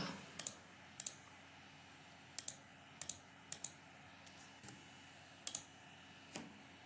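A computer mouse clicks in short crisp taps, about a dozen irregular close clicks, some in quick pairs, over quiet background.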